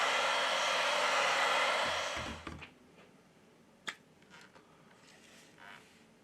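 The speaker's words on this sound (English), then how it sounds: "We apply heat to the device to remove the battery cover." A heat gun or hair dryer warms the back of a Xiaomi Mi 10T Lite phone to loosen its battery cover, a steady loud airy blow for about two seconds that cuts off, followed by a few faint clicks and handling taps.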